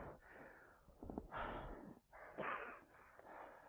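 Heavy, ragged panting after exertion in thin mountain air: close, quiet, repeated breaths with raspy, wheezy inhales and exhales in an uneven rhythm.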